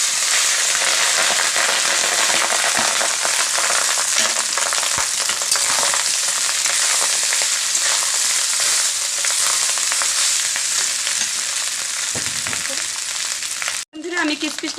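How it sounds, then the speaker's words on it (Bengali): Whole spices and a bay leaf spluttering in hot oil and ghee make a loud, continuous crackling sizzle that runs without a break and cuts off abruptly just before the end. "এর মধ্যে আমি গোটা গরম মশলা দিয়ে দিচ্ছি এই যে দেখো একটা তেজপাতা দিয়ে দিচ্ছি ফুটতে শুরু হয়ে গেছে"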